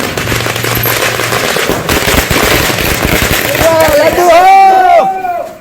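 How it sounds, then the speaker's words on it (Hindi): Fireworks and firecrackers burst at a crowded street celebration in Bihar after Nitish Kumar's oath-taking ceremony. Dense, loud, continuous crackling and popping fills the clip, and rising whistling streaks join near the end over a background of crowd noise. "कहीं आतिशबाजी हो रही थी"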